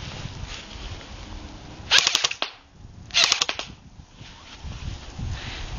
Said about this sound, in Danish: Skal prøve bare at få et skud.